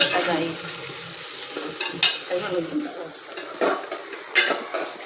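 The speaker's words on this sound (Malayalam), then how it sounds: "നമ്മുടെ സവോള പച്ചമുളക് വെളുത്തുള്ളി ഇവിടെ ഇങ്ങനെ കിടന്ന് നന്നായിട്ട് വഴണ്ടോണ്ടിരിക്കും" Sliced onion, green chilli and garlic sauté in a pan, giving a steady sizzle and fry broken by several sharp scrapes and clinks of a spoon stirring against the metal, all close up.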